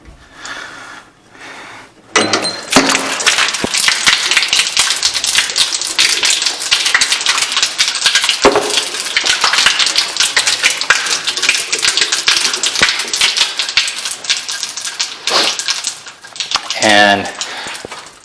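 A water softener pipe is cut through during a home water softener installation, giving a dense, steady run of rapid rasping and clicking for most of the stretch after a quieter start, close and fairly loud.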